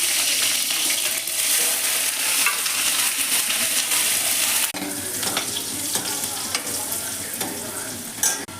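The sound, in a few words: green chilies frying in hot oil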